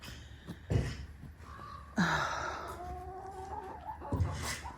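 Several chickens cluck and squawk nearby in their run in uneven bursts, with one drawn-out call in the middle; no one speaks.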